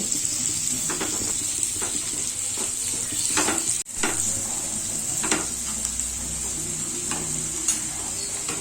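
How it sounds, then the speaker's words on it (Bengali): Onions fry over a medium flame in a pan for egg do pyaza, a continuous bright sizzle broken by scattered stirring clacks and one brief pause. "ফ্লেমটা মিডিয়ামে রাখছি। পেঁয়াজ দিলে হালকা একটু ভেজে নিব।"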